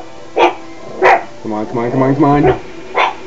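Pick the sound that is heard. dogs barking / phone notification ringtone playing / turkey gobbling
dogs barking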